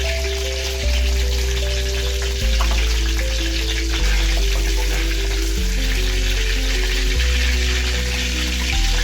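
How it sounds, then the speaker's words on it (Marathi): Cumin seeds sizzling in hot oil for a Malvani mackerel curry, a loud, continuous close crackle with steady low hum underneath and no voices. "तेल चांगलं गरम झालेलं आहे, त्यात आपण आता जिरा टाकत आहोत"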